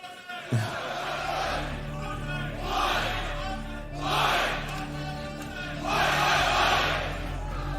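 A large indoor esports arena crowd at ESL Challenger Melbourne roars in repeated swelling waves of cheering, loud and reverberant, rising and falling several times.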